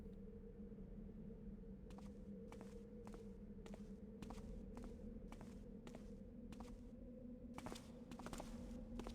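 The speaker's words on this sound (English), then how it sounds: "I'm hearing footsteps" Footsteps in the Thief fan mission Etude of a Street Corner, a steady series of soft, evenly spaced steps over a constant low ambient hum, growing slightly louder and closer toward the end.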